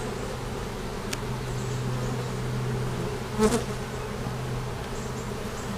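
A honey bee swarm hums in a steady, dense drone throughout a hive inspection, with a brief nearby rustle partway through.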